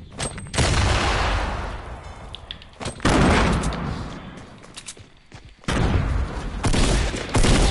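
Shotgun fire in the video game Fortnite, with three loud, close blasts spaced a few seconds apart, each trailing off in a long rumbling decay.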